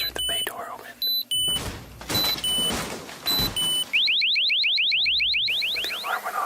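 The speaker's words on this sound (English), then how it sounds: "But the alarm went off and I think it scared him off." An RV alarm going off: rapid, repeated high electronic chirps sound loud and close after thumps and clunks of a door and rustling, with a voice speaking over the earlier part.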